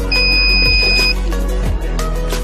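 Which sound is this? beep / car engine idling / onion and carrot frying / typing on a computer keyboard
beep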